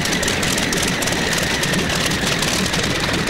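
A tractor-pulling machine fitted with three V12 Allison engines making 7,500 horsepower idles at a 1996 European tractor pulling event in Bernay, France, with a loud, steady, dense rumble that never lets up and no talk over it.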